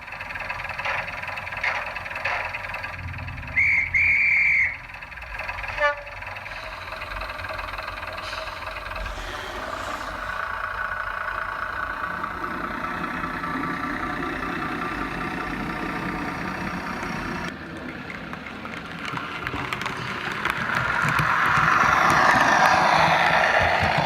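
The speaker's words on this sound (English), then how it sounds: "the full 101 experience of air release, engine revs and acceleration when you apply a little throttle" A Bachmann Class 101 model diesel railcar's sound unit idles and rattles, with a brief hiss of released air, then revs up and builds steadily louder toward the end.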